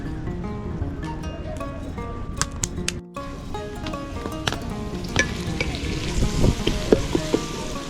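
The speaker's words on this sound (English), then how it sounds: "then I fry it with the royco in it and the onions" Onions frying with Royco seasoning while cooking village food by a beach, a steady close sizzle and crackle that drops out for a moment around the middle before returning busier and louder.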